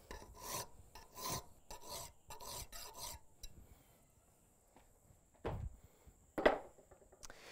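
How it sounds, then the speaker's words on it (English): A smooth cut metal file worked across metal, with six or seven close rhythmic rasping strokes, then a pause and two more isolated strokes, the last one loudest. "But this is a smooth cut file."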